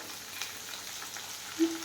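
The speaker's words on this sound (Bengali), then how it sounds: "এবার আমি ওতে দেব আদা বাটা" Ginger paste frying with potatoes in a pan for dhokar dalna makes a soft, steady sizzle, faint and close, with a brief clink near the end.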